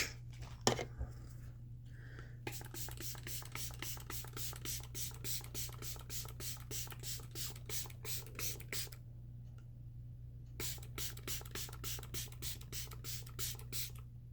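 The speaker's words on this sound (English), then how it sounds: "I'm going to use the LYS setting spray." LYS makeup setting spray misted from a pump bottle in a long run of quick, evenly spaced hissing spritzes, a short pause, then more rapid spritzes, heard close over a steady low hum.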